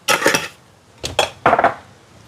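Curry being stirred in a clay pot, with garlic, pepper and cumin added: three bursts of scraping and clinking of a utensil against the pot, close and fairly loud with short pauses between them.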